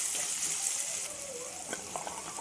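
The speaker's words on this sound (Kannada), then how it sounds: "ಸಣ್ಣದಾಗಿ ಹೆಚ್ಚಿನ ಈರುಳ್ಳಿ ಹಾಕ್ತಾಯಿದ್ದೀನಿ. ಒಂದು 2 ಈರುಳ್ಳಿ ತೊಗೊಂಡಿದ್ದೀನಿ. ಚೆನ್ನಾಗಿ ಫ್ರೈ ಮಾಡಿ." Two finely chopped onions frying in a pan, a faint steady hiss with light stirring clicks near the end, close and unaccompanied.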